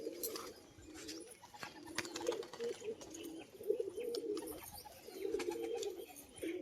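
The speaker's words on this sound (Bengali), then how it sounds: "পায়রা জোড়া দেখুন, খুব সুন্দর বাজির পায়রা" Fancy pet pigeons, a mated pair of tumbler birds, cooing in repeated low throaty bursts at close range, with faint chirps and background rustle, no talking.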